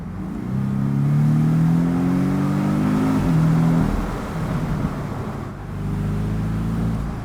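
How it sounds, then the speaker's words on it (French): A Porsche 718 Boxster S engine revs up and down, a loud throaty growl rising in pitch, easing off, then climbing again, heard close from inside the open roadster. "Le son est tellement rauque de ce moteur."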